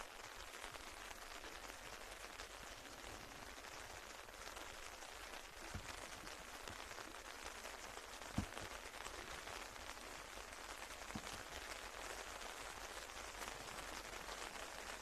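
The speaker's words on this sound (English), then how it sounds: "Rain is coming down." Heavy rain pours over an outdoor athletics field during a school championship, a dense, even hiss that holds steady throughout, broken by a couple of faint distant knocks.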